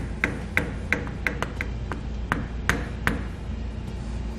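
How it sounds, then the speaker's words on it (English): A hammer strikes a flathead screwdriver to tap the locking tabs on the nut of an electric trailer brake with a dust shield. The metallic pings are sharp and close, about ten of them at uneven intervals, with no voices. "we're just going to take a flathead screwdriver and a hammer and tap them out of the way"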